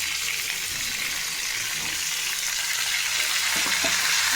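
Steady, loud sizzling of turmeric, chilli powder and garam masala frying in a hot pan, a continuous crackling hiss with a few faint clinks near the end.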